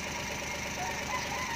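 Freshly overhauled Japanese surplus engine running at light revs, a steady low mechanical drone with faint rattling and knocking, continuous and moderately loud without any talk.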